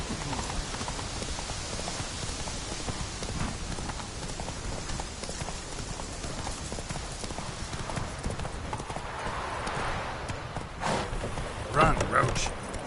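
Roach the horse gallops in The Witcher 3 with a steady, close clip-clop of hooves and a rain-like patter behind it, while a voice speaks over it.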